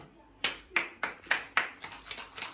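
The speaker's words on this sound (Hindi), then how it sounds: "वाह वाह वाह वाह तालियां" Seven or eight sharp claps in a quick, even rhythm, close and fairly quiet, each a crisp separate hit with small gaps between them.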